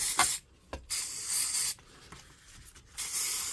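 Brake cleaner sprayed from an aerosol can onto a DeWalt DCN660 cordless nailer in several hissing bursts of varying length, close and fairly loud, separated by short pauses with light handling clicks, no talking.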